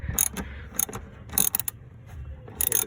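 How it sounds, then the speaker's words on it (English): Metallic clicks and ratcheting clanks from a wrench unbolting a seat inside a 2006 Subaru Impreza, coming in irregular bursts with short pauses between them, close and moderately loud. "Just need to unbolt everything"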